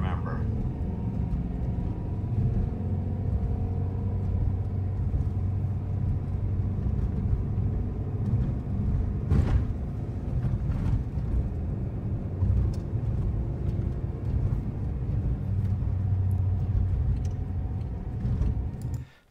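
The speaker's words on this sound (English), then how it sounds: "car sounds pretty good" A right-hand-drive 1985 Honda City R, a Japanese-market car, runs with its engine idling in a steady, even low rumble that holds at a constant level for about nineteen seconds before cutting off at the end.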